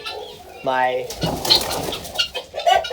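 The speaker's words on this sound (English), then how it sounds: "guinea fowl and my now white Chanticleer chickens" Poultry calls close by from guinea fowl and white Chanticleer chickens, a bird cooing and clucking in short bursts, with a brief spoken word among them.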